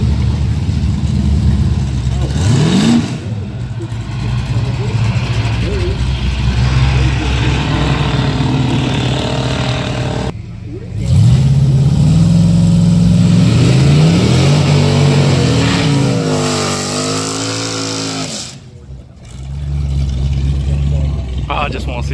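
Drag racing truck making a pass with fresh NGK spark plugs, its engine revving hard in rising pitch sweeps with brief pauses between gear changes, loud and close, with people talking over it.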